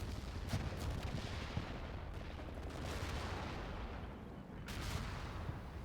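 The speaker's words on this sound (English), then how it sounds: "The pre-called artillery barrage strikes along the contact line." Artillery barrage striking along a front line in Combat Mission Red Thunder, a dense rumble of booms and blasts, steady and heavy, with no voices.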